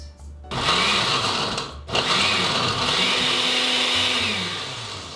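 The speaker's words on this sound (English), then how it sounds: "Put in my blender" A blender blending bitter melon with a little water whirs loudly and steadily, briefly cutting out and starting again, its motor pitch shifting slightly as it runs.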